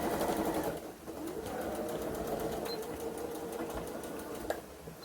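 A sewing machine stitches the side seams of a cloth doll in a steady close whir, pausing briefly and then running again, with a small click near the end.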